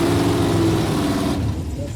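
A Dodge Challenger and a Camaro in a drag racing qualifier, a loud close engine roar that holds steady, then a sudden drop in the upper range as the run passes, with a commentator's voice on top.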